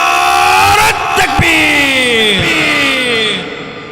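A large crowd at an outdoor Islamic religious sermon roars a loud, sustained takbir chant in unison, voices swelling together for a few seconds before trailing off.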